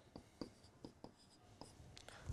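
Chalk or marker taps and strokes on a board as figures are written during an eighth-grade math lesson, a few short distinct scratches spaced out, faint and close in a quiet room.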